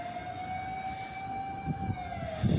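A fire truck's wailing siren sounds at a residential fire on Gancia Street in Barangay Basak San Nicolas, holding a steady tone that slowly falls, heard from a distance over a constant street and engine rumble.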